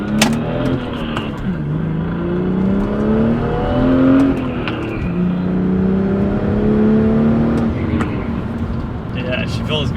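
BMW M240i with its B58 turbocharged engine pulling hard under acceleration, a loud, steady rising and falling engine drone through gear changes, with a person speaking over it.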